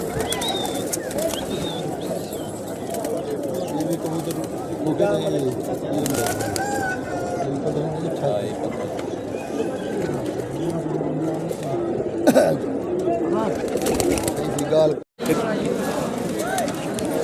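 Pigeons at a pigeon market in Rahim Yar Khan coo and murmur steadily in a dense flock, with people talking nearby throughout.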